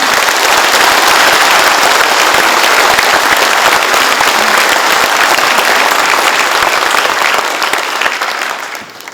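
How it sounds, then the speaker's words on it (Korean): A large crowd applauds at the inauguration ceremony of the Gyeongsangbuk-do governor, with loud, dense, sustained clapping that tapers off in the last moment. "우리 박수로서 격려해 주시기 바랍니다"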